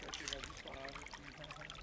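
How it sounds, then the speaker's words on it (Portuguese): A small stream in cerrado vegetation trickles and burbles softly and faintly, a low steady watery flow heard at a distance. "Aqui tem um córrego protegido pela vegetação."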